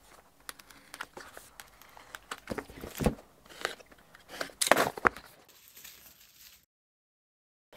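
Close, irregular rustling, crinkling and sharp taps of cardboard and packaging as a Logitech MX Keys Mini keyboard box is unboxed, then a brief hush near the end.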